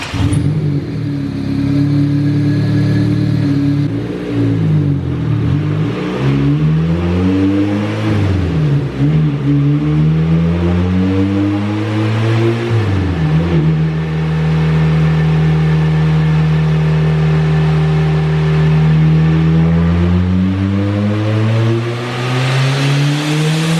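A turbocharged stock D16 engine in a Honda Del Sol pulls hard through repeated rising revs, its tone climbing, dipping between shifts and climbing again, loud and close throughout.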